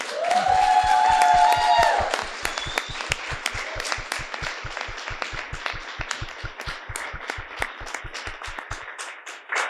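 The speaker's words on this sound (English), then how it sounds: "Everybody give these guys a big, giant hand." An audience applauds a panel at a campus community event, a dense wash of clapping with cheering and whoops that swells loud at first, then settles into a steady, slightly thinner ovation that carries on to the end.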